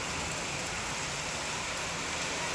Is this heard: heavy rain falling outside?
yes